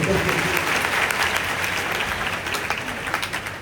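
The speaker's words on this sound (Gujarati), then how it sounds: "એક તાળી તમારા માટે પાડી દો" Sustained audience applause at a motivational guidance camp for schoolchildren, dense and steady clapping throughout with a slight easing toward the end.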